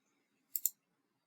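A quick double click of a computer mouse, two crisp close ticks in rapid succession amid near silence.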